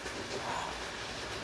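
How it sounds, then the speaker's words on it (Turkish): A train runs on rails with a steady, moderately loud rolling rumble and hiss, unbroken and without distinct clacks across the short stretch. "Bu tren kaç yapıyordur?"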